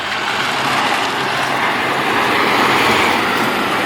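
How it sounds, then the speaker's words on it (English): Dump trucks roll in and out nearby on a property where field dirt is being delivered, heard as a broad, steady roar of heavy traffic that swells slightly toward the middle. "so I've got dump trucks going in and out of this thing every few minutes all day"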